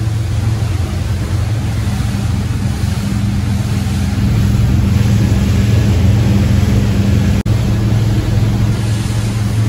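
A boat cruises at about 25 knots on the run from San Diego to Ensenada, with a loud, constant engine drone and a rush of wind and water that holds steady throughout. One brief click stands out near the end.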